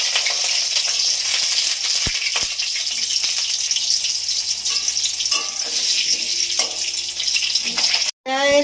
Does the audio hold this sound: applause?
no